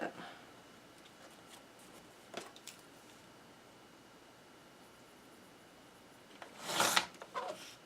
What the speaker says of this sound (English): we'll just cut it at this line. I need to trim off